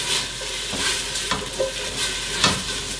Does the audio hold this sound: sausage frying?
yes